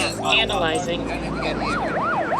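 Ambulance siren arriving at a beach rescue, a loud nearby wailing tone that sweeps up and down repeatedly, with a person speaking over it.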